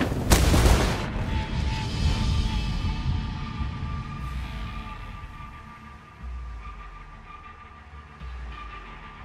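A demolition charge goes off in the Ghost Recon Wildlands video game, a loud close boom at the start that rolls into a long rumbling decay with a thin steady tone lingering afterward and no talking.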